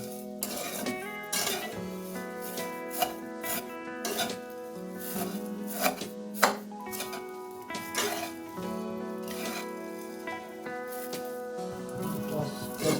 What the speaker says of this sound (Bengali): এখন চিনি আর সেমাইটাকে একটু ভেজে নেব